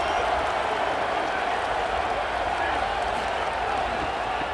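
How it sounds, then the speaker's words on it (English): A stadium crowd in a college football video game roars for its defense, a steady, dense wash of cheering that holds at an even, loud level throughout. "Listen to this crowd begging its defense to get a stop."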